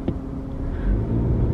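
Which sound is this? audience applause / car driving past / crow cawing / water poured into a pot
car driving past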